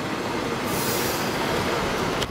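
A Tashkent–Kazan passenger train rolls along with a steady broadband rumble of wheels on track, loud and close throughout, with a brief metallic squeal near the end.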